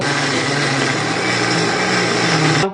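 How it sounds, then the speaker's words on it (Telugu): A mixer grinder grinds urad dal with water, whirring loudly and continuously with a high motor whine, running steadily before stopping abruptly at the end. "మనము ఉరద్ దాల్ని అంటే మినపప్పుని గ్రైండ్ చేద్దామండి"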